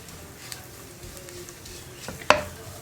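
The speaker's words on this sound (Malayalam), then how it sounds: "അപ്പോൾ നമ്മളിത് നന്നായിട്ടൊന്ന് വഴറ്റിയെടുക്കുക" Chilli and spice powders fry gently in a pan for onion chutney, a faint sizzle under soft stirring, punctuated by a sharp metallic clink of spoon against pan near the end.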